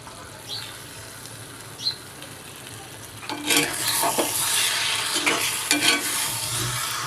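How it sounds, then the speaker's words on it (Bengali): Hilsa fish pieces are stirred into cooked spice masala in a pan, starting with a quiet background and a couple of faint clinks, then turning into louder close scraping and sizzling mixing for the last few seconds. "মাছটা দেওয়ার পরে আমি এইভাবে মশলার সাথে সুন্দরভাবে মিশিয়ে নেব"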